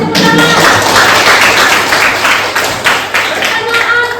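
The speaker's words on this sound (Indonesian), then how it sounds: "Kasih tepuk tangan." A school class claps hands during a Christian religious education lesson, loud, close clapping from a small group in the room that goes on briefly with a low hum beneath.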